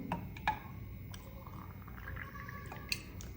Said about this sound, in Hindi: ये मैंने डाल लिया. ठंडा पानी में डाल लेती हूँ.